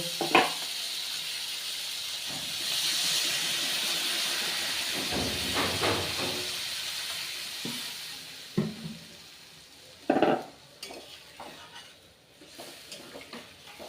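Water poured into fried spice paste in a pan for a fish curry, a loud steaming hiss that holds for several seconds, then fades into scattered sizzles and clinks.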